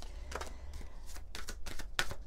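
Oracle cards being riffled and shuffled in quick bursts, a series of crisp papery flutters at close range with short pauses between them, no voices.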